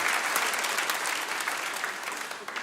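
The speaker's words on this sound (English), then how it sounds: "Give a round of applause for that." An audience at a church conference morning session breaks into brief, dense applause that fills the room, fading a little toward the end.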